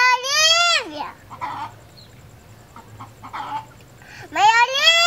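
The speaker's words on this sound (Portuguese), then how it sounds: "Olha lá o galo te chamando." A rooster at a grandfather's house in Petrolina crows loudly nearby, a drawn-out call at the start and another at the end, with quieter speech and background noise between.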